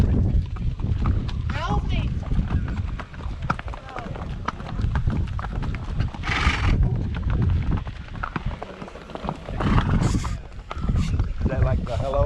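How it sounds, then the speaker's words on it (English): Small horses pass along a street in Amsterdam, their hooves clip-clopping in a steady rhythm amid background bustle, while people talk nearby. "Little horses."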